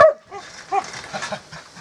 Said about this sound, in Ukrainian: Васька, перестань гавкать.